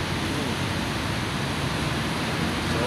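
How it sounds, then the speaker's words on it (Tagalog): A sudden heavy downpour of rain drums steadily at a Commonwealth cremation site during bad weather. The hiss is loud, dense and unbroken, with no voices. "Biglang buhos ang ulan."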